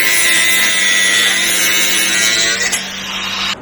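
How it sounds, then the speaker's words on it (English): A power tool grinds steadily through a metal bolt on a truck mirror mount, cutting it flush with a loud, continuous high whine that cuts off near the end. "So I'm gonna cut it down flush and then drill it, tap it."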